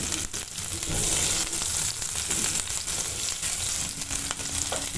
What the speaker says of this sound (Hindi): पहले जाएगा लहसुन अदरक,